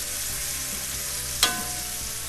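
Steak sizzles in a cast iron pan after being flipped, a steady close hiss with one sharp metallic clink partway through.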